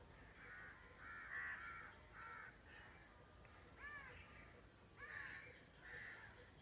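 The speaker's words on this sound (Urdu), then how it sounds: "کوئی پرندہ بول رہا ہے، کوئی ہوا کی سنسناہٹ ہو رہی ہے" A crow cawing outdoors in a quiet natural setting, several harsh calls in short bursts with pauses between, somewhat distant over a faint constant background hiss.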